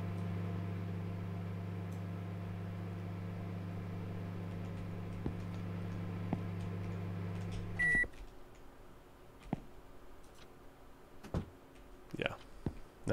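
Microwave oven running in a convenience store video game: a steady electrical hum lasts several seconds, ends with a sharp beep, and is followed by quieter room noise with scattered clicks.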